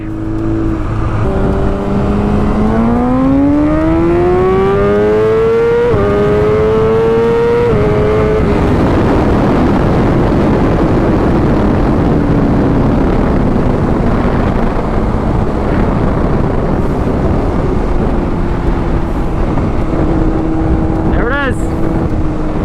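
A tuned 2020 BMW S1000RR motorcycle accelerates hard at full throttle, its engine note climbing steadily through the gears before easing into a sustained high-speed roar, loud and close throughout.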